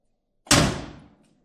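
The door of a 1969 Chevy being restored swings shut with a single solid, heavy slam that rings out briefly and fades, alone in an otherwise quiet space.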